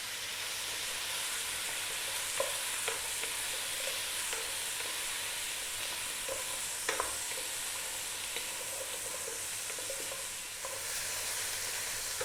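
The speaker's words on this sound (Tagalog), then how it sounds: "Gigisahin ko lang siya ng mga 2 minutes" Chicken feet being sautéed for adobo sizzle and hiss steadily in a hot pan, close by, with occasional clinks and scrapes from stirring and no talking.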